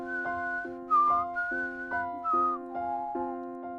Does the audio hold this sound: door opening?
no